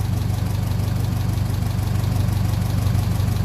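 A 1957 Ferguson 35 tractor running on TVO idles at about 750 rpm, a steady low engine chug with an even pulse that holds unchanged and close throughout, with no talk over it.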